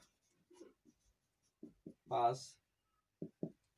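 During a lecture, a marker or chalk scratches across a board in short separate strokes, several brief scrapes spaced irregularly with one longer squeaky stroke in the middle, close and clear against near silence.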